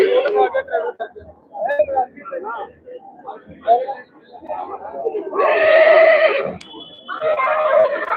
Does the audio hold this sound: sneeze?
no